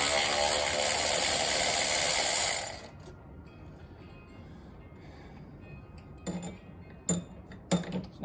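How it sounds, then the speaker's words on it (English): Ratchet on the cylinder head bolts of an LS1 V8 engine, with a long buzzing ratchet spin at the start followed by a few separate sharp metallic clicks and clinks, close up with no talking. "we're gonna go ahead and start unbolting those"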